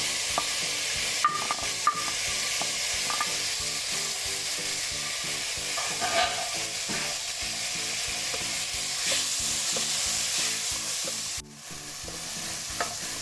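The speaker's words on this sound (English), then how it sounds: "We cook the tomatoes till the time the raw flavor of the tomatoes doesn't go away." Tomatoes cook with red chilli, salt and spices in a pan, a gentle continuous sizzle broken by the frequent scrape and tap of stirring, close and fairly quiet, with no talk.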